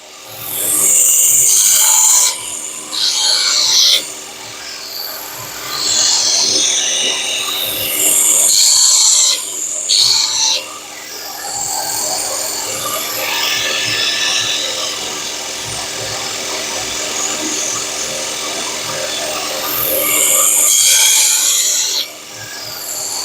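Steady, loud abrasive rasping as a 240mm white steel deba knife is thinned and reprofiled, continuous grinding with swells and dips in intensity, close up with no voices.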